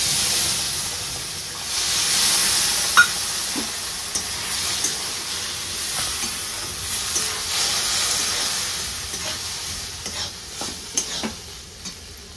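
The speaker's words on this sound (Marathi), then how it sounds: "हे जे दूध वतून घेतलेलं आहे ते मी ह्यात वतून घेते" Milk poured into roasted semolina in a pan on a low flame, giving a steady sizzle with steamy hiss and occasional clinks of a stirring spoon throughout.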